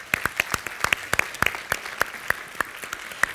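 Applause from an audience at a Swedish cultural heritage conference, a sparse, irregular patter of individual claps from a small crowd at moderate distance, thinning out toward the end.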